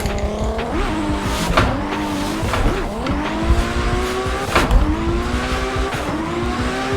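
Hero S14.9 2JZ drift car from the Tsujigiri pack in Assetto Corsa, engine revving hard and rising and falling between shifts while tires squeal continuously through drifts, with brief thumps and a voice faintly underneath.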